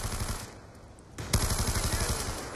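Rapid light machine gun fire from a multiplayer shooter game rattles in steady bursts, loud and close, with a brief lull before a dense, rhythmic stream of shots resumes.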